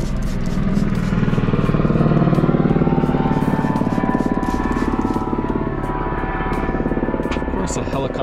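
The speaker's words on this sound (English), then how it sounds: "Of course, a helicopter would fly right over as I'm doing this." A helicopter passes overhead outdoors, its rapid rotor chop throbbing steadily for the whole stretch, loud and close, swelling slightly near the middle before easing a little.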